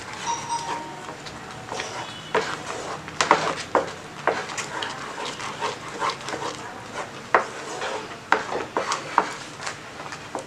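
Spoon stirring a pudding milk mixture in a pot on the stove, with repeated scraping and clinking against the pot in an uneven rhythm, close and fairly clear, no talking.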